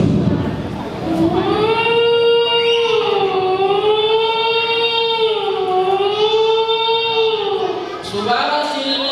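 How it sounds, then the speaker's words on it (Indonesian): A loud air-raid siren wails in rising and falling sweeps for several seconds, steady and piercing, with faint crowd noise and a voice in the background. "Suara sirine begitu sangat kencang"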